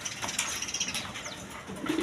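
Pigeons in a market for sale, soft cooing with faint chirps and a brief flutter of wings, low and fairly distant against quiet background noise.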